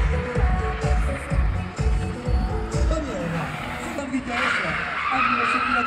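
A car skids with squealing tyres at the end of a track during a motorsport event in Colmar, loud and close over a continuous engine roar, with speech mixed in.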